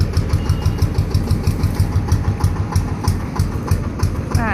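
Six-wheel E-taen dump truck engine idling steadily without revving, a low, even rumble with a regular pulsing beat, close and continuous throughout.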